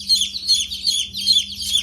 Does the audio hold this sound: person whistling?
no